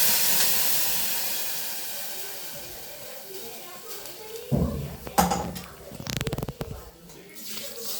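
Ground masala for a bean (avarekai) and potato curry hitting a hot pan, starting as a faint steamy hiss and then breaking into loud, crackling bursts of sizzling over the last few seconds.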